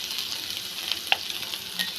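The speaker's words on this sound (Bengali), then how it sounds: "আমার মশলাগুলো ভেজে নেওয়া শেষ।" Spices with turmeric powder fry in a pan for a papaya stir-fry, giving a steady close hiss of sizzling with a few sharp stirring clicks and no talk.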